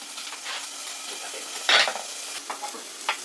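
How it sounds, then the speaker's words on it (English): Chicken back for Jamaican brown stew sizzles steadily in a pot with salt and black pepper, with a few louder bursts of spitting and the scrape of stirring. "You can hear it kind of frying"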